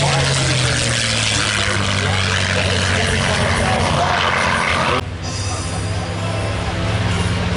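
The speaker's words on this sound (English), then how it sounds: "now on the takeoff roll, ladies and gentlemen, take a look." A Curtiss P-40 Warhawk propeller fighter roars through its takeoff roll at an airshow, with a loud, steady engine drone running unbroken from start to finish.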